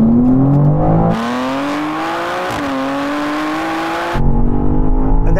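BMW XM Label Red and BMW M4 CSL, both Manhart-tuned, in a drag race: a loud engine revs and climbs steadily through the gears with a shift partway, then a rougher burst of engine roar at the end.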